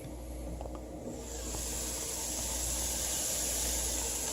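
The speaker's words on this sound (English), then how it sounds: "You can hear the sizzle." Food sizzles in a hot pan with a steady, close hiss that grows fuller and louder after the first second and holds without any talking.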